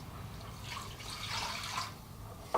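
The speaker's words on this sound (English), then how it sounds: "you want to add in 3 3/4 cups of water" Water poured steadily into an Instant Pot with fettuccine pasta for a Greek lemon butter dish, a continuous splashing, trickling stream heard up close with no talking.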